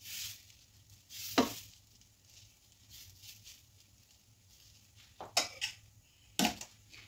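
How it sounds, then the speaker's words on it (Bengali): Dosa batter spread across a hot tawa gives a quiet continuous sizzle, broken by a few sharp clinks and scrapes of utensils against the pan. "তারপরে আমি ব্যাটারটা এতে দিয়ে দেব"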